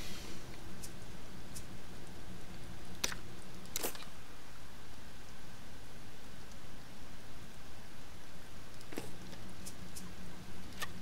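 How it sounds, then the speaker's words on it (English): Steady video game rain hiss fills the whole stretch, with a couple of brief sharp clicks and a low hum beneath, no voices. "Because it's raining."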